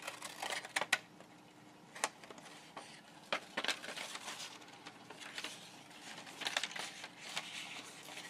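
Scissors snip through crinkly paper in a run of sharp, irregular cuts and rustles, close and fairly quiet, with brief pauses between clusters of snips.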